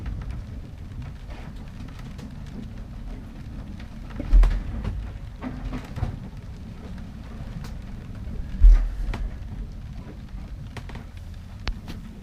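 Steady rain falls throughout while low rumbles of thunder roll in, with two heavier booms standing out along the way, during a thunderstorm at sea in the Bay of Biscay.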